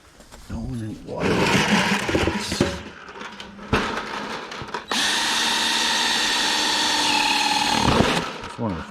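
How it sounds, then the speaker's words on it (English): A power drill bores holes through buckets in a scrap-cluttered yard, running in loud bursts with a long steady whine near the end; people talk before the drilling starts. "It's one of the first things I try to do always is drill holes in my buckets."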